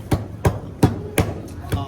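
A hammer strikes seafood shells five times at an even, fairly quick rhythm, each blow a sharp, close crack on a table during a seafood boodle fight meal.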